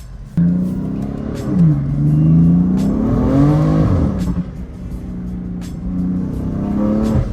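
A BMW F80 M3 engine revs up and pulls away, pitch climbing and dipping through gear changes, loud and close with a steady roar.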